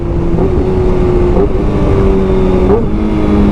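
A Kawasaki ZX-6R motorcycle engine drones loudly as it downshifts in traffic, with short rev blips that briefly raise its pitch at each gear change before it settles back.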